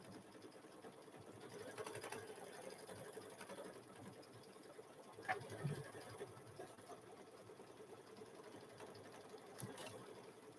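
Embroidery sewing machine stitching a quilt in the hoop, a steady soft mechanical whir with faint rhythmic needle chatter, running continuously at low level with a brief bump midway.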